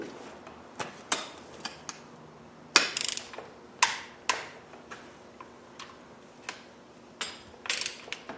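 A torque wrench tightens bolts to 45 newton meters, giving a series of sharp ratcheting clicks at irregular intervals, some louder clustered snaps among softer ticks, with no talking.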